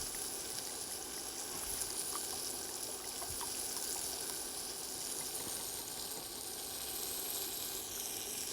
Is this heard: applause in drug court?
no